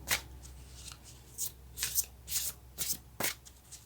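Tarot cards are shuffled by hand in a series of quick riffling swishes and soft taps, about eight short bursts spaced irregularly, close and quiet with no speech.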